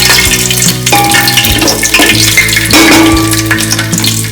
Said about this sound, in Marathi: तेल अगदी चांगलं तापलेलं आहे। मी हे वाटण टाकते त्याच्यामध्ये।